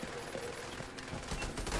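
Rapid automatic gunfire in the shooter game Tom Clancy's The Division 2, a quiet, distant-sounding rattling burst that continues through the moment with no talk over it.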